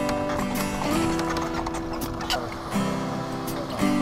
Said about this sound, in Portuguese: O cavalo e a mula aí já ficou agitado aqui com a nossa chegada.